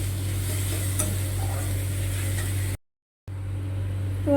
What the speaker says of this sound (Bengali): তারপরে আদার পেস্টটা দিয়ে দেবো।